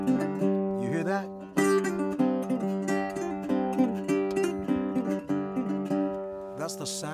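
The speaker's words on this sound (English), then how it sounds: "That's the sound of the Saharan blues." Saharan blues performance with guitars playing a repeating melodic figure over sustained tones, a steady rhythmic pulse and bright plucked accents, full and fairly close.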